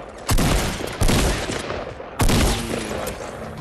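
Shotgun blasts in the Fortnite video game: three loud, sharp booming shots, close by, spaced about a second apart with a short decaying tail after each.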